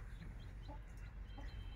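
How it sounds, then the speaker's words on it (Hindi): An Aseel rooster clucking softly at a distance, a few short low clucks over a steady rumbling background, no talking. "ये मुर्गा जो ठहरा हुआ है"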